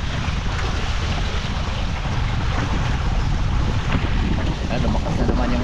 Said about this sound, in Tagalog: Lumakas na naman yung salatan.